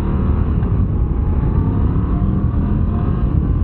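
A Moto Guzzi V85TT motorcycle runs while being ridden, its engine a steady, loud low rumble with constant wind rush, close and continuous, with no talking.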